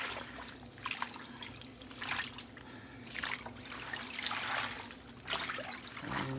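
Water runs and splashes in a sink as collard greens are washed, with intermittent bursts of rinsing and handling, close by and fairly quiet.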